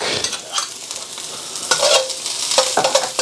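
Mushrooms and garlic sizzle loudly in a hot pan for king prawn fried rice, with a steady fry broken by sharp stirring scrapes and clatters up close.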